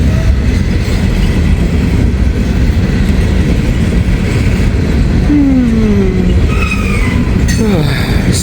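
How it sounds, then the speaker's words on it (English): A train passes close by, a loud, continuous rumble with rhythmic clickety-clack of wheels over rail joints and squealing, rising tones near the end, filling the whole stretch without letup. "this is definitely the final train"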